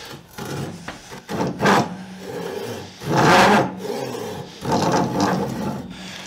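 A Japanese ryoba pull saw cuts through wood in a series of raspy, scraping strokes, each swelling and fading in an uneven rhythm, close and fairly loud with no voices.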